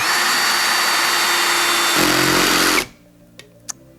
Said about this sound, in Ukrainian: І подивимося, хто швидше зможе закрутити гвинт.